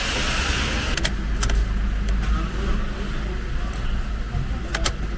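A car with a burst, oxidized battery fails to start, leaving a steady low rumble and noisy background with a few faint clicks.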